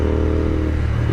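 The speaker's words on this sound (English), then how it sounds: "I do love the sound of this exhaust though" A Royal Enfield 650cc motorcycle exhaust burbles and revs with a deep, steady rumble, close and fairly loud, with no voices.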